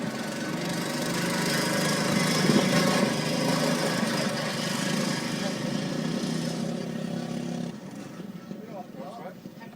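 A racing lawn mower engine drones steadily on a practice day at a lawn mower race, a buzzing mid-pitched motor running at speed that fades somewhat toward the end, with a voice talking over it.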